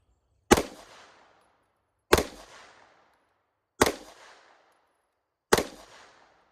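Four sharp pistol shots from a Wilson Combat EDC X-9 at a shooting range, spaced about one and a half seconds apart, each a loud close crack with a short decaying tail, and no voices.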